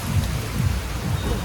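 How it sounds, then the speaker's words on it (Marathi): Steady rain falling in Kolhapur, a dense even hiss with soft low rumbles underneath, continuous and fairly close for the whole stretch. "हे बघा कोल्हापूरला पाऊस चालू झाला"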